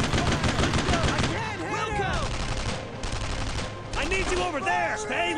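Rapid suppressing gunfire rattles in the WWII shooter Brothers in Arms, the loud bursts running continuously under soldiers' shouting voices.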